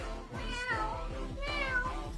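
A voice imitates a cat, giving two drawn-out, rising-and-falling meows over a low, steady rhythmic thumping in the background.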